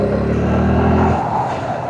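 Suzuki Gixxer Fi ABS motorcycle with a dual-barrel exhaust, its engine note loud and close as the ride starts, a steady throaty rumble that thins out partway through.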